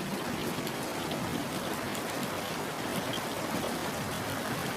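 Rain pours steadily with a broad, unbroken hiss and patter of drops landing on surfaces nearby, loud and constant with no talking.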